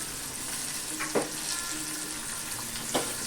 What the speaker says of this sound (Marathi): तेलामध्ये भेंडी परतून घेऊया